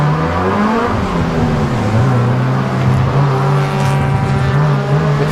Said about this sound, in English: Pit stops completed, the cars making their way back on the track.